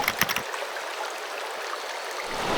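A forest river in Venezuela flows near a riverside camp at sunset, giving a continuous, even rush of water close by. There is no talking, only a few faint knocks at the very start.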